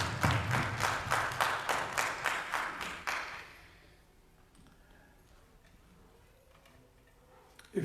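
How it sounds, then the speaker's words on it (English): A church congregation claps in a quick, even rhythm for about three seconds, loud and full in the hall, then the clapping stops and the room falls to a quiet murmur. "Can we give God a big round of applause"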